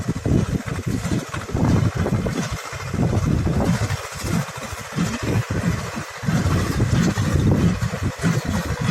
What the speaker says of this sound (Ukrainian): Тікуємо трактор Т-369, прес Фамарол.